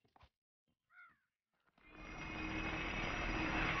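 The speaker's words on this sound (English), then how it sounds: "That's not a chicken, that's a crow." A crow in the video game Family Guy: Back To The Multiverse gives a short caw amid brief sounds. A loud, steady rushing roar then rises and holds.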